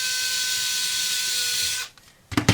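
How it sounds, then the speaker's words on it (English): An electric screwdriver whirs steadily while backing out the small case-back screws of a Casio AE-1000W wristwatch, then stops abruptly, followed by a couple of short close clicks and handling noises. "I'm going to use the electric screwdriver because it is going to speed up the process"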